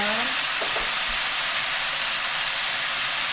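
Green pumpkin stir-frying in a pan gives a steady, loud hiss and sizzle that holds evenly from start to end, with a few faint scrapes of stirring underneath.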